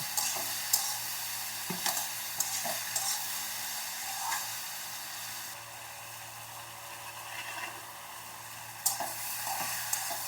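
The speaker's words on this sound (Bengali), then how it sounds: "এখনই ভালো করে নেড়ে চেড়ে এটাকে ঢেকে দেব" Mashed gathi kochu (taro) bharta with green chillies and chilli powder stirred in a pan, a faint, steady sizzle with light intermittent scrapes and taps from the utensil.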